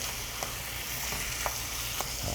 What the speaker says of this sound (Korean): 3분의 1 정도 익혀준다는 생각으로 같이 이렇게 볶아주세요